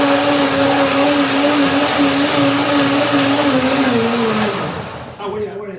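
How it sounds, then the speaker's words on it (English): A blender whirs loudly and steadily while blending a smoothie of flax seeds, almonds and kale, a dense motor roar with a strained tone that winds down near the end. "So now I blend everything."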